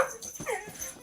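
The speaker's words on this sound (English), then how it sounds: "Dog alert, obviously." A dog whimpers and yips softly in a few brief, faint bursts, heard indoors at some distance with a quiet background.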